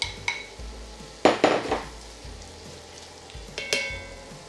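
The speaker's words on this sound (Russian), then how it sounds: "Теперь в сковороду мы возвращаем наш уже готовый бекон." Cooked bacon tipped back into a frying pan, several clattering scrapes of utensil on pan over a soft low sizzle, close and fairly quiet.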